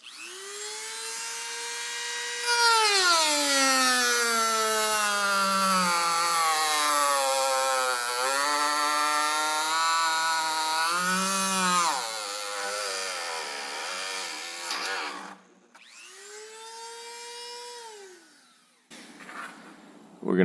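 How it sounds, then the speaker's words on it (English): A cutoff wheel cuts through metal to join two holes while making a winch fairlead for a Land Rover LR3, producing a loud, high, pitch-shifting whine that rises and sags as it bites, then stops and briefly restarts. "the first thing is just using this cutoff wheel to connect these two holes."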